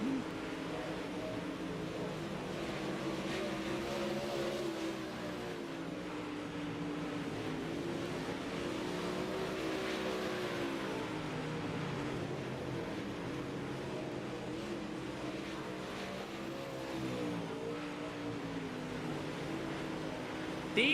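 IMCA UMP modified race cars on a dirt track at Volusia Speedway, a steady loud roar of several engines droning and shifting pitch continuously throughout, no pauses.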